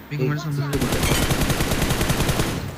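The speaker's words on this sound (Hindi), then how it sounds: "गोली चल रही है, पता नहीं कौन कहां से गोली चला रहा है" Dense automatic and single-shot gunfire from a battle royale video game crackles in rapid bursts, loud and continuous, starting abruptly after a brief lead-in of a low tonal sound.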